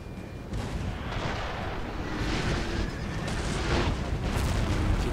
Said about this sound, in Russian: Был выстрел.